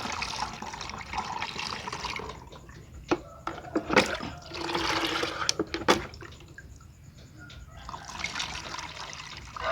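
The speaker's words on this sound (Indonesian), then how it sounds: "Kita tambahkan air cucian berasnya." Rice washing water poured into a container for making a homemade microbial starter from stale rice, a close, uneven trickle and splash that swells and ebbs over several seconds.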